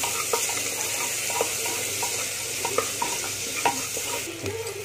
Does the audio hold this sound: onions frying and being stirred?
yes